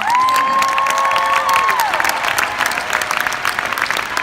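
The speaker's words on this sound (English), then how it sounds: "So give yourselves a huge round of applause." Concert crowd at The Anthem in Washington DC applauding and cheering for the band, a loud sustained wash of clapping with whoops and a long high shout rising above it.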